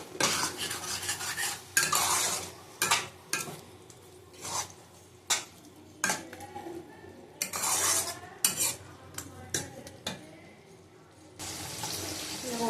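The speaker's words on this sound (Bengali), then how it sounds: "দিয়ে ভালো করে কষিয়ে নেবো" Mutton cooking down with yogurt, ginger, garlic and turmeric gets stirred in a pot, a series of separate scraping and clattering spoon strokes with soft sizzling between them, close and fairly quiet.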